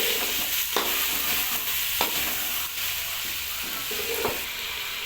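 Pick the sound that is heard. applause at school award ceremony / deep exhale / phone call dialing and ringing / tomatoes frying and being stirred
tomatoes frying and being stirred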